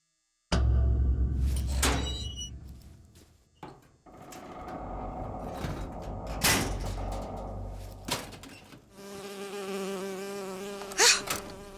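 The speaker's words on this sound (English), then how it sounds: "Oh, it's a bee. I hate these things." A bee in BioShock Infinite buzzes loudly and close, its drone swelling and fading as it moves around, with a few knocks and thumps in between.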